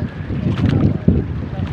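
Strong northeast monsoon wind gusting at sea aboard a boat, a steady rushing roar buffeting the microphone with a sharp gust near the end, with low rumbling and some voice-like murmur underneath.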